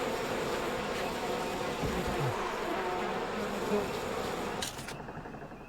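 Bees buzzing loudly and steadily in the video game We Happy Few, a dense, continuous insect drone that holds for several seconds before tapering off slightly near the end.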